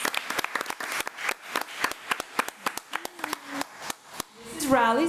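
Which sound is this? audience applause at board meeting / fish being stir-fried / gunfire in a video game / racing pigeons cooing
audience applause at board meeting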